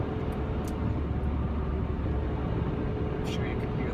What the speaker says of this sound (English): Of course, this is an older car, so it's slightly louder than most cars.